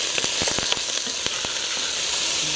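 Pork and beef sear in a hot pot for state fair chili, giving a steady close hiss of frying with sharp crackles and pops scattered through, and no talking.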